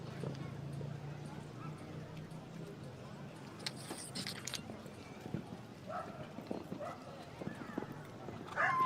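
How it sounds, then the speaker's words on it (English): Horse hooves at an eventing show jumping competition, a rhythmic clip-clop of the horse moving over the arena footing, moderately distant under a commentator's steady talk. "Lovely stamp of a horse, Stonehaven's Baby Blue."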